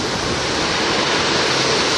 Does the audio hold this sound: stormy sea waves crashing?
yes